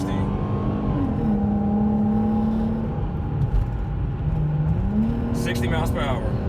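A 2012 Dodge Charger fitted with a throttle controller accelerates hard toward 60 mph, its engine a loud, steady drone heard from inside the cabin, rising in pitch before a gear change near the end.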